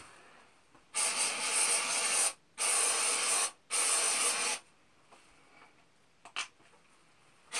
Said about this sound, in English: So what I do is I spray in the bucket first.